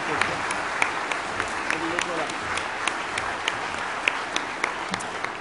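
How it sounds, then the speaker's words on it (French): An audience claps for Jean Fourier at a 2016 New Year's greetings ceremony in Béthune, with dense, steady applause and scattered sharper claps standing out, a voice faintly underneath. "Vous pouvez l'applaudir"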